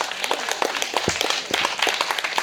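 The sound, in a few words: audience applauding Pichu of France Bleu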